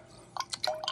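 Discharge water from a reverse osmosis system runs down through a drain pipe, heard as a few close, brief drips and splashes over a quiet background.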